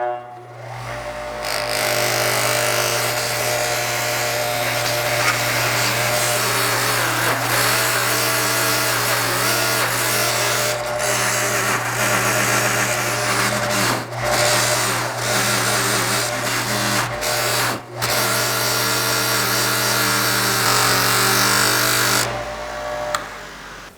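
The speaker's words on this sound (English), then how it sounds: "Now for the final buffing wheel, I'm using a green compound on this side." A soft buffing wheel loaded with green compound polishes a trailer hitch, a loud, steady motor drone with a constant hum and a grinding whir that shifts under pressure as the metal is worked.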